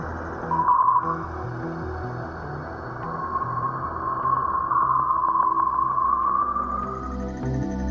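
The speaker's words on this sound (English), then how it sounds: "There, it still senses the shock waves emitted by the Sun," Voyager 1 recording of solar shock waves in interstellar space, a steady droning hum with low pulsing tones and a thin sustained whistle rising in the middle, continuous and alone.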